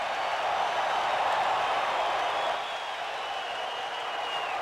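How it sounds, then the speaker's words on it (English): A big crowd roars steadily at Alltel Arena in Little Rock, Arkansas, before the Jermain Taylor vs. Freddie Cuevas boxing fight. The wash of cheering and applause is loud and continuous, easing slightly toward the end. "Big crowd at Alltel Arena in Little Rock, Arkansas."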